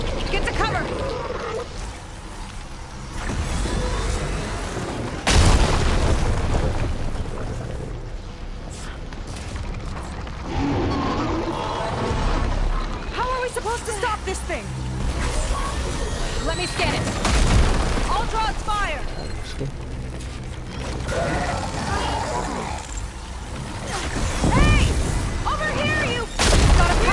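A machine enemy firing in the video game Horizon Forbidden West: loud booming blasts and bursts of mechanical fire over a busy game soundscape, with talk running through much of it and several heavy impacts spread across the stretch.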